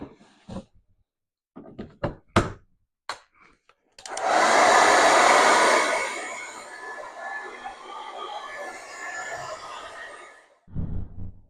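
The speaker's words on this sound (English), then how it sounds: "you can use a hairdryer to speed up a little" After a few sharp knocks and clicks, a hair dryer on a cool setting switches on with a loud, steady whooshing roar that gradually eases to a softer hum.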